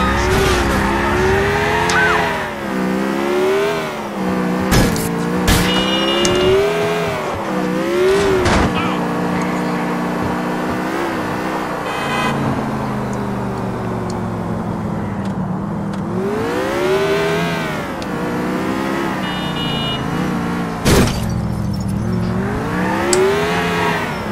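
A car in GTA IV revs hard with rising and falling engine sweeps and squealing tire skids, loud and continuous, with a voice talking over parts of it.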